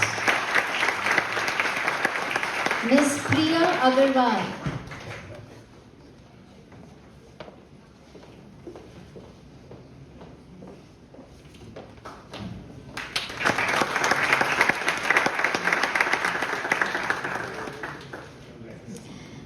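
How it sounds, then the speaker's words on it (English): Audience applause at a university international conference valedictory ceremony, loud bursts at the start and again near the end with a quieter stretch between; a voice announces a name over the clapping early on. "I request the audience for a huge round of applause"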